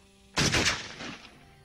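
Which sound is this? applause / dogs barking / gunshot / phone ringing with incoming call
gunshot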